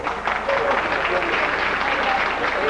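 Studio audience applause for contestants on a Mexican game show, El Programa del Millón: a steady, dense wash of clapping that holds at an even level for the whole stretch.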